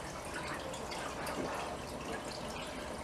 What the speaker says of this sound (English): So I simply open the lid, put my pond pump in there.